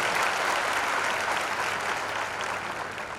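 A church congregation claps together in a thick, continuous wash of applause, steady and fairly loud, with no speech over it.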